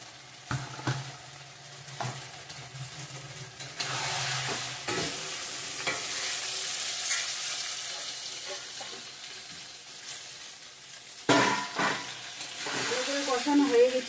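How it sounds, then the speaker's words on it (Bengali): Chicken sautés in a pan with chilli, coriander and cumin powder for chicken curry, giving a continuous sizzle with bursts of spoon scraping and stirring, some running water, and clattering toward the end. "কষানো হয়ে গেছে মাংসটা, তেল ছেড়ে দিয়েছে মশলার সঙ্গে, ভালো করে কষিয়ে নিয়েছি।"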